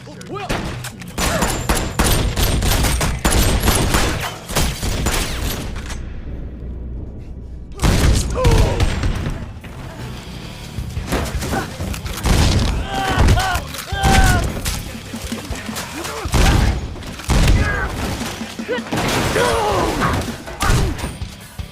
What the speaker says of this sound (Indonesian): Lalu kemudian terjadilah baku tembak.